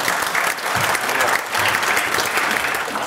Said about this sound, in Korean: 기관장님들 여기 지금 계신 동의하시면 큰 박수로 좀 부탁드리겠습니다